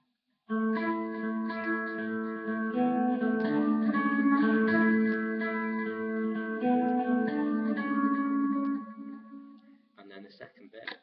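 A lead part on electric guitar with a delay effect, repeating echoed notes filling a continuous shimmering melodic line, close and steady before fading into a short bit of handling noise.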